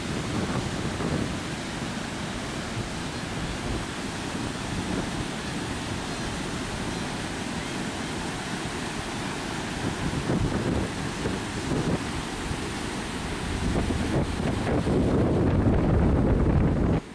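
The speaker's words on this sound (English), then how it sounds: "I hope the sound of the ocean can kind of come through on the speaker." Ocean waves and wind at a warm beach: a continuous roar of surf with heavy wind buffeting the microphone, swelling louder and deeper toward the end, with no voices.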